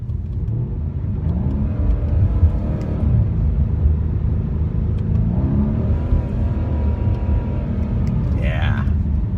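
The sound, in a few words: Mercedes C63S AMG bi-turbo 4-liter V8 engine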